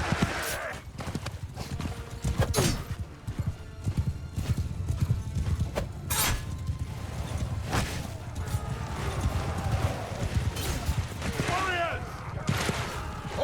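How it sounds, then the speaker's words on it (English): Many horses gallop in the video game Mount & Blade II: Bannerlord, with a continuous drumming of hooves, whinnies, shouting and scattered gunfire in a busy battle scene. "Horses!"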